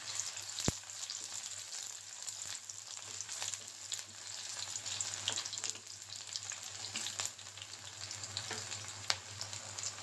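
Onions frying on low heat in hot sesame oil make a soft, steady sizzle with light crackles and an occasional stir. The sound is quiet, a low hum runs beneath it, and nobody speaks.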